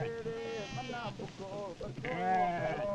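Goats bleating at a Somali homestead, several wavering calls close by in quick succession with short gaps, loud and clear over faint background.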